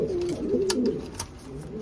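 Cuban pigeons cooing softly in a loft, low throaty murmurs close by, with a couple of brief clicks and rustles in between.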